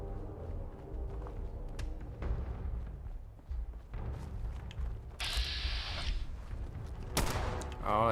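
Pistol gunfire in Fallout 4 sounds as a few sharp shots and mechanical clicks over quiet game ambience, with a burst of brighter noise partway through and a faint voice in the background.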